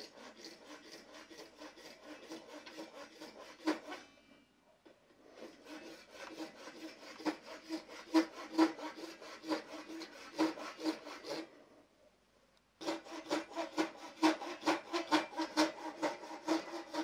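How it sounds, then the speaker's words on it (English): Hand filing a pen blank with long, rhythmic rasping strokes in close, steady bursts, broken by two short pauses. "Just go a little bit too far forward, trying to take a long stroke."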